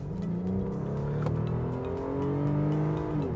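Opel Vectra B petrol engine pulling hard from 60 to 90 km/h, a steady rising growl with smooth climbing engine tones and road noise, continuous and close, with no talking.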